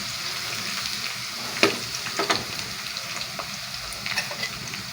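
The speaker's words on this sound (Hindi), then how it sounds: "इसके बाद हरी मिर्चें डाल देंगे, और इसको मिक्स करेंगे।" Green chillies fry in a pan while being stirred, a soft steady sizzle with a few sharp spatters and scraping stir noises, close but fairly quiet, with no voices.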